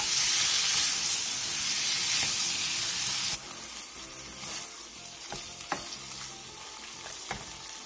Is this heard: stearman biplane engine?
no